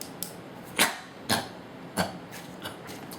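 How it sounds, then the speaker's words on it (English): Several sharp coughs in a loose series, close and fairly loud, spaced about half a second apart over a quiet background. "Took a break to have a coughing fit and die."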